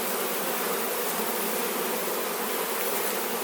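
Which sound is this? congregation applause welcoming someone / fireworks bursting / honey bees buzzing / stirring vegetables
honey bees buzzing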